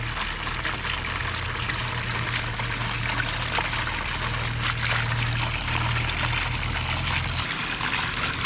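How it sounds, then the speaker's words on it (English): Water streams steadily through a gold sluice box fitted with dream mats during a Black Hills gold clean-up, a continuous close rushing flow under a low motor hum that cuts out near the end. "even water flow across the mats."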